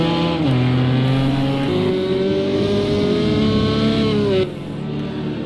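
Race car engines in Project CARS 2 on the Daytona Road Course, a loud, close, sustained engine drone that shifts pitch through gear changes and rising revs before dropping off near the end.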